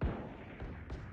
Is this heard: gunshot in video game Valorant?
yes